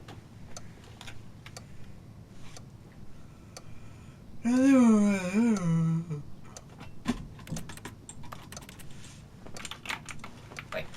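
Computer keyboard keys pressed during gameplay, scattered light clicks and taps in irregular bursts up close, with a short sung or hummed tone from the game partway through and a voice speaking at times.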